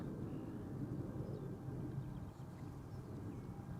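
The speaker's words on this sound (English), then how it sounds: "Air Europa taking off to Madrid" An Air Europa airliner takes off from Amsterdam Schiphol bound for Madrid, a steady, broad low roar of jet engines with wind-like rumble that holds at an even, moderate level throughout.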